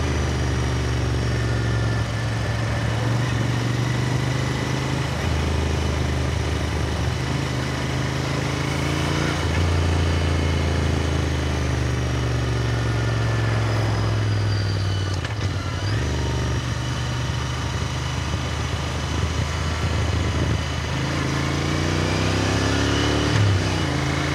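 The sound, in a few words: Royal Enfield Interceptor 650 motorcycle riding at moderate speed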